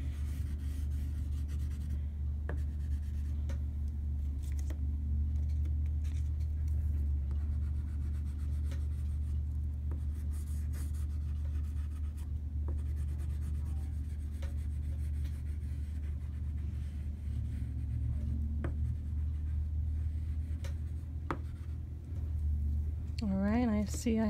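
Art materials are rubbed and scratched across paper in a steady, close scribbling rhythm that runs throughout, while a person speaks over it at length and a low background hum persists.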